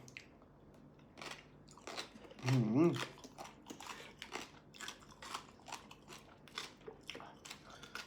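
Someone chews crunchy, spicy papaya salad (som tam) with a steady series of close, crisp crunching bites. A brief voice cuts in partway through.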